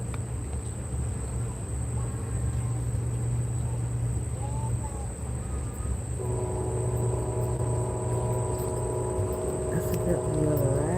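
An Amtrak passenger train runs on the route from Atlanta to New Orleans, with a steady rumbling roll and high whine; a horn-like tone sounds partway through and continues to the end.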